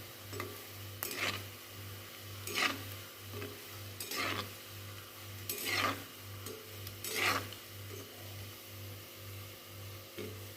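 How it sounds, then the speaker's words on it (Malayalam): Roasted-semolina evening snack frying in a pan gives a soft steady sizzle, broken by several scraping stirs at irregular intervals, with a low rhythmic hum running underneath throughout. "ഇത് പെട്ടെന്ന് ഫ്രൈ ആയി കിട്ടും."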